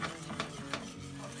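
A spoon scrapes and swirls through thickening custard in a pot, with a few louder strokes over a steady bubbling hiss, close up.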